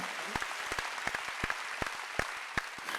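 Scattered, sharp hand claps at a Sunday church service over a low background hum, a handful of people clapping unevenly rather than full applause.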